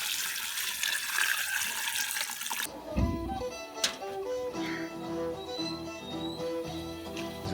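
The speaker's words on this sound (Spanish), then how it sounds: "Ahorita estamos agregando agua." Water pours into a cooking pot for sweet squash (zambo de dulce) with panela, a loud, rushing splash lasting under three seconds before cutting off abruptly, followed by quieter background sounds.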